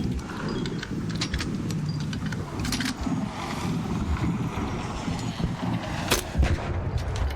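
Gunfire in the video game Arc Raiders booms and cracks repeatedly in quick, irregular bursts over a constant rumbling background, fairly loud with sharp impacts scattered throughout.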